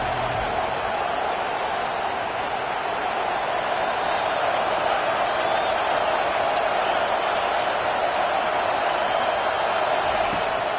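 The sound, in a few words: stadium crowd cheering loudly for the defense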